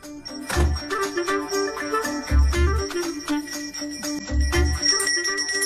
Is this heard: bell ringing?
yes